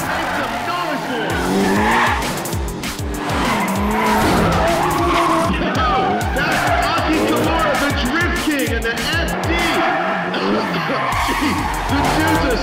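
Car tires skidding and squealing continuously while drifting in Need for Speed Pro Street, loud and close, with engine roar and crowd noise underneath.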